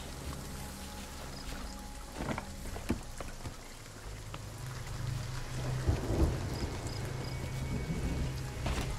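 A thunderstorm in a video game at sea near an island: steady rain with rolling thunder and occasional cracks, a low rumble swelling toward the middle.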